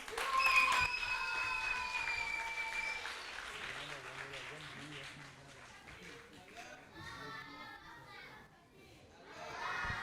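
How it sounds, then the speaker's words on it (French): Audience at a children's holiday-camp semi-final applauds team 4 Walada Club Jeddah of Adjamé, a loud burst of clapping and crowd noise with children's shouts and chatter that thins out midway, voices and tonal sounds mixed in. "On applaudit très très fort l'équipe 4 Walada Club Jeddah d'Adjamé"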